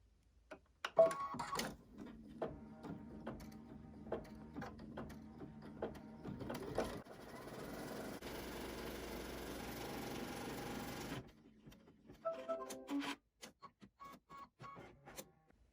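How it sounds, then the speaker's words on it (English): A sewing machine stitches a tack-down line through fabric and batting on a 4x4 inch quilt block, with short rhythmic bursts of stitching, then a longer steady run, then more short bursts, close and clear without talk. "We're going to stitch a tack down stitch onto the fabric and the batting, and then after that we're going to stitch our quilting motif."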